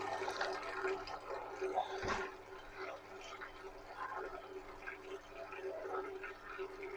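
Cooled wort runs from a Grainfather system into a fermenter at about 21 degrees as a steady, close trickle and gurgle of liquid with a brief thud partway, and no talk.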